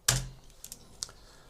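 Keys clacking on a computer keyboard while a name is typed for a new Fusion composition in DaVinci Resolve, a sharp close first stroke followed by a few lighter scattered taps.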